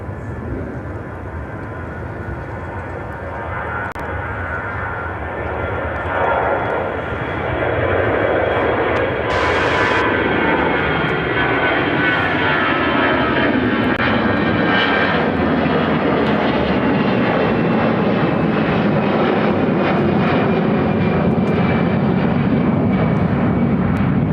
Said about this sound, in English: This takeoff is American Airlines 2813 taking off to Washington Reagan National on the A319